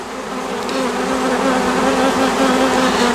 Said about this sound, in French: Un essaim qui est rentré, il peut ressortir, même s'il ne sort pas le jour même, il peut ressortir le lendemain.